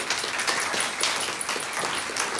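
Steady applause from an audience at an evening talk on synaesthesia, dense continuous clapping that fills the room, close and even, with no voices.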